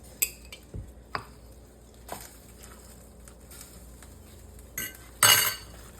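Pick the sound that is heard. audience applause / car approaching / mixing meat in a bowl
mixing meat in a bowl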